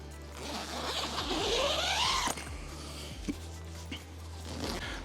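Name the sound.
zipper being opened or closed on a bag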